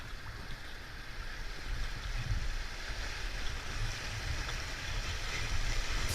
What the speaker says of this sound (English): Oh, that's some fast water.